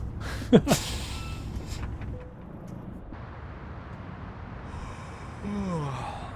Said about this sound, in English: Oh, listen, my guy's yawning.